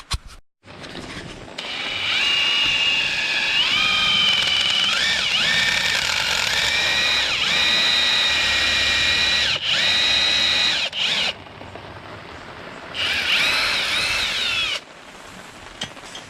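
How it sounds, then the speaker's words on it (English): A power drill bores out a broken bolt in an engine block, whining loudly and steadily with pitch dips under load, pausing briefly and resuming for a short final burst. "So now we're gonna start drilling the engine block,"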